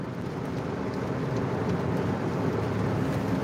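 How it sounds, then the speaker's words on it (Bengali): Rain falling in Kuwait, a dense steady rumble and wash of water that stays constant and fairly loud throughout, with no voices. "আমাদের এখানে বৃষ্টি শুরু হয়ে গেছে"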